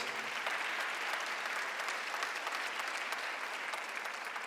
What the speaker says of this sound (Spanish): demos un aplauso al Señor por la vida de las personas que están por primera vez